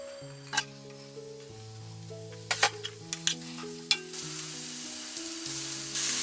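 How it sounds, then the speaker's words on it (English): Onions frying in olive oil, a soft steady sizzle with a few sharp clicks and taps of utensils, while sustained musical tones play throughout. "a little bit of olive oil. We're going to get our onions"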